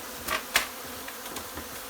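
Angry honey bees buzz at an opened hive behind a panel, a dense, steady drone close by with a few brief louder passes, and no voices.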